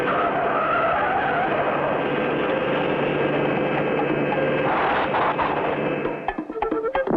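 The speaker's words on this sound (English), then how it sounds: "Hit the brake, Rocky." Cartoon truck braking hard, a loud sustained tire skid and screech that cuts off abruptly into a few brief clattering bumps near the end.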